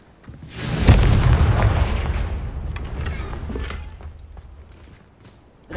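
A Confringo blasting spell explodes in Hogwarts Legacy, a loud booming blast that swells quickly and rolls off in a long, fading rumble, with a sharper crack right at the end.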